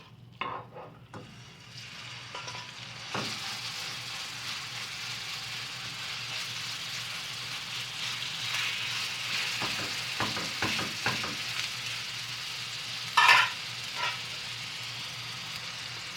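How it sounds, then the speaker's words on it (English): Chicken sizzling steadily in hot oil in a pan, a broad hiss that swells after a few seconds, with occasional clinks and scrapes of a utensil. "once the oil is hot, let's add our chicken."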